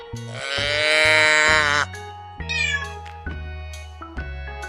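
A cat lets out a long, loud meow up close, followed by shorter mewing sounds, all over a steady plodding music beat.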